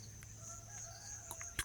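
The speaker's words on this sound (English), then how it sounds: "Beautiful sounds of the rooster chicken crow." A rooster crows on a homestead, a faint, distant call heard alone over soft background hum, lasting under two seconds.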